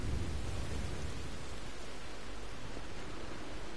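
Steady rain in the open world of Red Dead Redemption 2, a dense, even hiss with low rumbling underneath at a campsite near a train, continuous and fairly loud with no talk.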